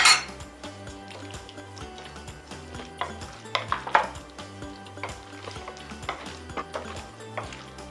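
Chopped shallot going into a potato salad in a bowl, with close clinks and scrapes of utensils against the bowl in an uneven run of taps and rattles.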